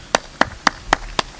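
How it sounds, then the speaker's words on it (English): Five sharp, evenly spaced hand claps ring out close and clear at a Safari Rally Kenya event, slow and steady like the start of applause. "A big applause"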